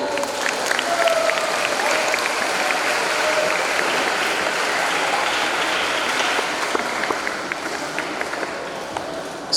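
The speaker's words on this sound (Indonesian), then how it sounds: "Iya, tepuk tangan." A crowd at an Islamic school ceremony claps together, a dense, steady wash of hand claps lasting several seconds and gradually thinning toward the end.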